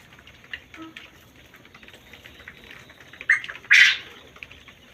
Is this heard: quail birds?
yes